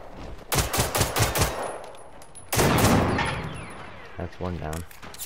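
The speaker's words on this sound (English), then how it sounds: "Are they shooting the side of my house?" Robots firing guns in the video game Generation Zero, rapid close bursts of automatic gunfire followed by a heavy blast and rumble, with a person speaking briefly near the end.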